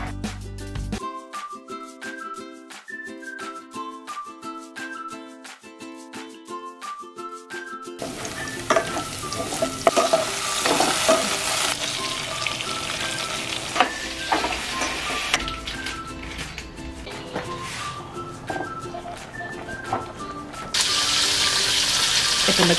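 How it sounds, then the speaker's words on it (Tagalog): Milkfish and tilapia frying in a pan give a steady, dense sizzle that swells after a quiet musical opening and continues under light music. "nagpiprito na tayo ng isda ngayon, bangus sa tilapia"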